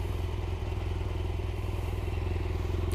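BMW R1200GSA motorcycle fitted with a 21-inch Woody's front wheel, engine running steadily with a loud, continuous low throbbing drone throughout, close by and without breaks.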